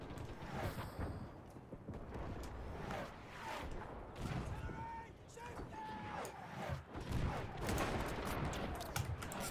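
Rifle fire and artillery in Mount & Blade: Warband battle scenes, with repeated scattered gunshots and distant bangs alongside a talking voice over a busy background.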